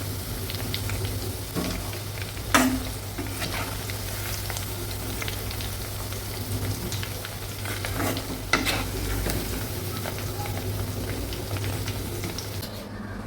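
Tuna pieces deep frying in hot oil for a homemade tuna pickle, a steady close sizzle with occasional stirring scrapes and a couple of sharper clinks, no talking.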